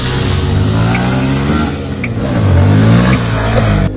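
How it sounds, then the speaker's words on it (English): A Yamaha FZS25 motorcycle engine pulls at low RPM with a steady, loud, throaty rumble that swells slightly toward the end, with no voices over it. "the Yamaha FZS25 still offers a punchy performance in the lower band of the RPM"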